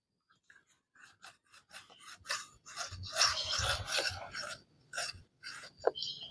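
A knife tip twisted against an ingredient to mash it fine, producing a series of close, quiet rasping and grinding scrapes in irregular bursts.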